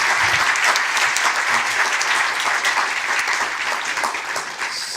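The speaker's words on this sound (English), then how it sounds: "give an applaud when he's coming up here" An audience claps warmly and continuously for Commissioner Janez Potočnik as he comes up on stage, a dense, even wash of applause from many hands that fades slightly toward the end.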